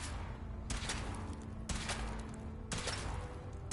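A weapon firing during a power armor suit test in Fallout 4: three sharp, fairly distant blasts spaced about a second apart over a steady mechanical hum, fairly quiet overall.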